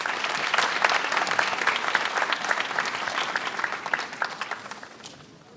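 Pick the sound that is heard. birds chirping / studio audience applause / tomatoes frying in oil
studio audience applause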